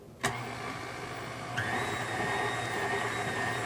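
A stand mixer fitted with a beater attachment and splatter guard switches on with a sharp click, then a steady mid-pitched motor whine runs, rising a notch in speed partway through.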